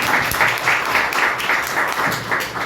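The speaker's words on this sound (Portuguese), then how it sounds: "Uma salva de palmas, né, gente?" A seated audience at a journalism panel breaks into steady, dense applause, many hands clapping together at full volume throughout.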